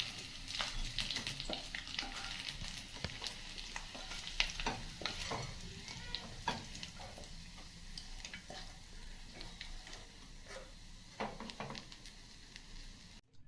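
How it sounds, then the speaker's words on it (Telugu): Small nethallu fish frying in a pan of oil for a spicy Guntur-style Andhra curry, giving a steady close sizzle broken by scraping stirs and sharp crackling bursts throughout. "మన మెత్తళ్ళు వేగిపోయినాయండి"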